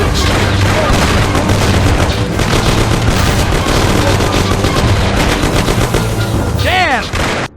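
Loud, nearly unbroken gunfire from a shootout in the video game Mafia: The City of Lost Heaven, with rapid automatic bursts layered over single shots for several seconds before a sudden stop.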